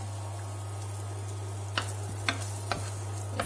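Ginger, garlic and chilli dropped into melting butter in a pan, a soft, low sizzle under a steady hum, broken by a few sharp clicks and taps of a utensil against the pan.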